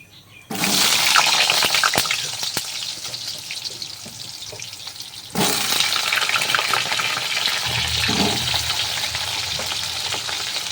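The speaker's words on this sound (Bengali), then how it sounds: "এবার পটলগুলোকে ভেজে নেব" Pointed gourd (potol) pieces dropped into hot oil, a loud sizzle that erupts suddenly, eases, then surges again as more pieces go in, followed by a low rumbling undertone as the frying continues steadily.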